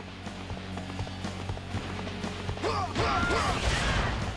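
Horse hooves from the video game Dynasty Warriors 5 clop along in a steady galloping rhythm amid game combat noise, with a loud crash and a whooshing swell near the end.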